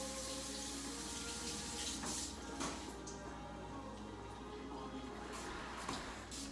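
Tap water runs steadily into a kitchen sink while Brussels sprouts are rinsed, a constant close hissing splash with occasional brief clatters and shifts in the flow.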